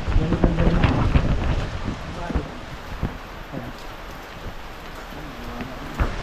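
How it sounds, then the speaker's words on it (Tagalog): Heavy rain pours and wind rushes loudly, stronger at first then easing slightly, with scattered knocks and a voice speaking under the storm. "Lakas ng ulan"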